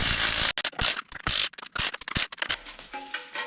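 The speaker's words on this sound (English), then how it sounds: "I like to run them with the impact" An impact wrench rattles in quick hammering bursts as it spins bolts off a GMC Jimmy, with brief gaps between the loud, close-up bursts.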